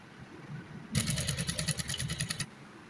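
A sewing machine stitches fabric for a ruffle, a close, rapid mechanical chatter that starts abruptly, runs for about a second and a half, then stops, with quiet before and after.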